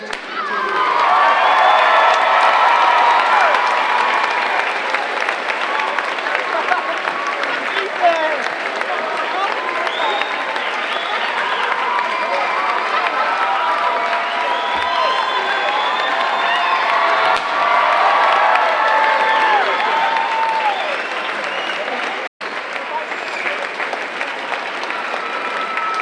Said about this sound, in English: please give a round of applause for the class of 2022.